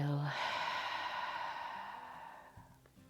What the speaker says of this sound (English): Big inhale. And a long exhale.